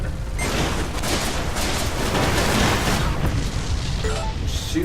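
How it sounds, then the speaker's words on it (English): Missile explosions in the space combat game Everspace VR come as a dense, continuous roar of booms and bursts, loud and close with no speech over them. "Shoot some missiles at him."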